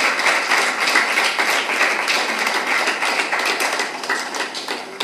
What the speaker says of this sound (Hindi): के लिए भी जोरदार तालियां बजाएं आप